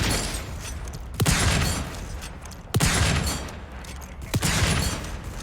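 Gunfire in the survival game Volcanoids: a few heavy, booming shots spaced about a second and a half apart, each standing out over a constant loud rumble of game noise.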